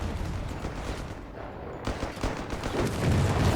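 Heavy gunfire in Company of Heroes 3: a dense, continuous crackle of rifle and machine-gun bursts with some heavier thumps, loud and sustained throughout, growing stronger toward the end.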